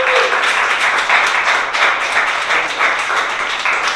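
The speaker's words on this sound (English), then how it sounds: "Another round of applause for Lola." Audience at a poetry reading series applauds a poet, a loud, close, sustained patter of many hands clapping throughout, with no speech over it.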